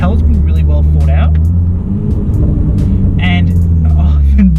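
A 2019 Renault Alpine A110 sports car's engine drones steadily from inside the cabin, a continuous low rumble with the driver talking over it throughout.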